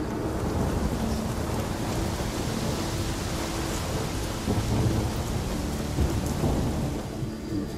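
A thunderstorm in The Witcher 3 fills the scene with dense, steady rain and low rumbling thunder that swells at moments, loud and enveloping, with no voices.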